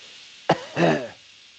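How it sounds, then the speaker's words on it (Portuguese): A single sharp cough, close and fairly loud, followed by a short rough throat-clearing rasp, then quiet. "Se de repente eu desse uma tossida"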